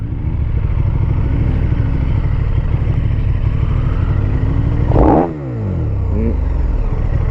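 Ducati Streetfighter V4 SP2 motorcycle engine revving hard and continuously at close range, a loud dense roar that drops off sharply near the end before settling back to a lower idle-like drone.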